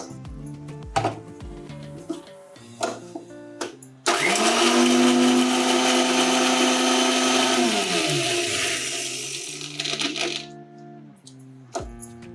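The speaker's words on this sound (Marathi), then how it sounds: "हे चार पाच मिरची द्या हे जरा मिक्सरमध्ये टाकून बारीक करून घेते" A kitchen mixer grinder whirs loudly for about six seconds, grinding four or five green chillies. Clattering and knocking of the jar and lid come before and after the run.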